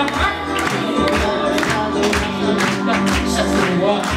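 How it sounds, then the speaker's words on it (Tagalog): Crowd applause and cheering at a Christmas party rise over loud music with a steady thumping beat, dense and continuous throughout. "Humihina pa rin ang palakpak!"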